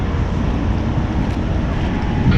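Strong wind blows across a ship on an inter-island passenger trip around Marinduque, Masbate and Romblon, a loud, constant roaring rush with no pauses or talking.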